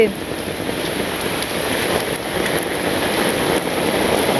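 Steady rain pours over a Bangladeshi village in the rainy season as floodwater rises along a road, a dense, even hiss filling the whole stretch without a break.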